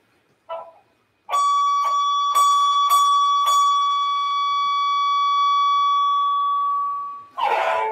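A high-pitched, sustained pure tone with faint overtones holds steady for several seconds after a few soft bell-like strikes and before a brief rustle, clear and fairly loud.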